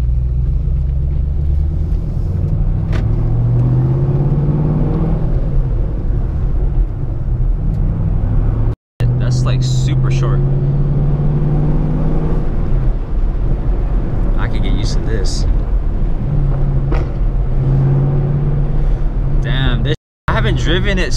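A 700 HP Shelby with a manual clutch pulls away with a loud, deep engine rumble and rising revs heard from inside the car. Gear changes briefly cut the sound, and people talk over the engine.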